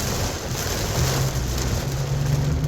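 Heavy rain during a summer flash-flooding storm in central Iowa, a steady dense wash of rain noise with wind buffeting the microphone and a low rumble underneath, continuous and fairly loud throughout with no voices.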